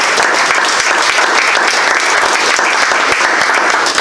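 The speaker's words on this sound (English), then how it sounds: "And so let's give them a round of applause." An audience applauds musicians after an evening concert of 18th-century music, a loud, sustained and even round of clapping with no talk over it.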